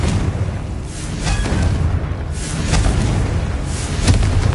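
A Confringo fire spell explodes in the Hogwarts Legacy game, giving loud rumbling booms and bursts that roll on continuously, with no talk.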